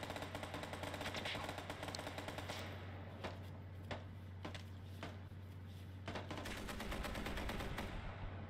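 Gunfire in the Call to Arms war game, a series of sharp separate shots cracking out at irregular intervals over a low steady engine-like hum, fairly distant and moderate in level.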